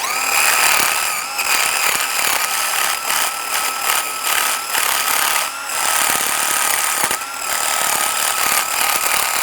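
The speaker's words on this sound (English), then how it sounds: "I'm just going to take a wire brush, just clean up some of this area." A power-driven wire brush scrubs the wheel hub mounting area of a 2007-2013 Mini Cooper, a loud close harsh buzzing grind that pulses in short bursts with no talk.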